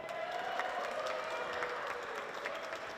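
Concert crowd clapping for a married couple performing on stage at a tribute show, a faint, steady wash of applause from a distance.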